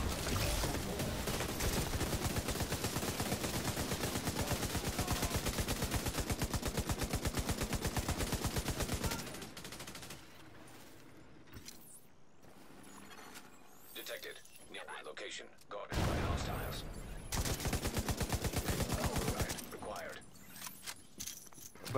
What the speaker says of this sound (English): Where's those shots coming from?